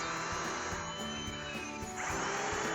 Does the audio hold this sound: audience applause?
no